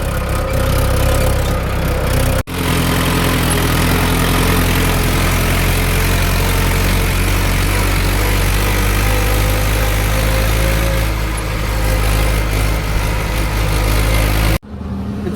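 A tractor engine runs steadily and close by with a deep, continuous rumble, briefly interrupted near the start and the end; no one speaks.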